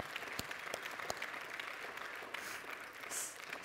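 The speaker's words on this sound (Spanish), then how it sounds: "Sí, den un aplauso al Señor, por favor." A church congregation applauds at the end of a service, a steady wash of clapping with a few sharper claps standing out, moderately distant and fairly faint throughout.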